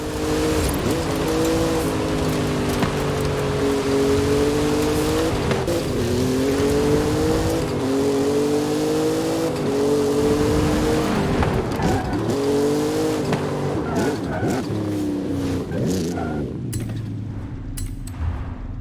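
A Formula Drift Mustang muscle car drifts in Forza Horizon 5, its engine wailing and repeatedly rising and dropping in pitch with tire squeal, loud and continuous before easing off near the end.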